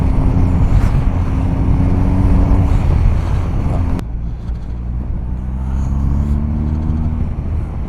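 A BMW R1250 GS motorcycle rides at speed, its engine a loud, steady rumble mixed with wind roar, close and continuous, with a brief change in tone partway through and no talk.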